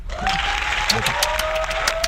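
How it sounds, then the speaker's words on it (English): Dense applause from an audience, steady and fairly loud throughout, with a faint voice or tone running underneath. "A round of applause"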